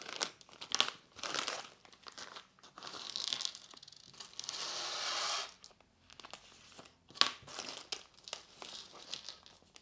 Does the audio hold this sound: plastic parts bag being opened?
yes